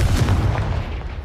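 A short, booming burst of the Confringo fire-blast spell in Hogwarts Legacy, a muffled low explosion lasting about a second, with no talking.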